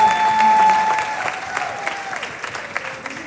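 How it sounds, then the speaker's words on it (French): Applause from a gala audience swells briefly near the start, then fades into scattered claps and faint room murmur. "j'aimerais ça que vous applaudissiez encore une fois ces belles dames"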